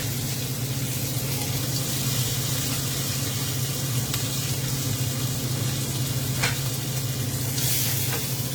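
Pork ribs searing in a hot pan on a stovetop, a loud, steady crackling sizzle close up, with a low hum underneath and a few sharp spatter pops toward the end.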